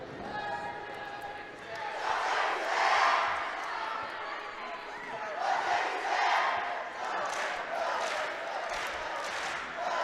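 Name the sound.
student section crowd cheering at volleyball game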